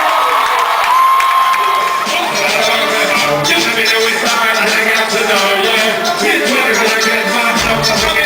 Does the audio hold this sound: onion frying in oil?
no